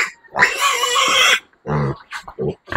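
Piglets from a first-litter sow with a yellow ear tag let out loud, harsh squeals and grunts close by, first in one long scream and then in several shorter bursts.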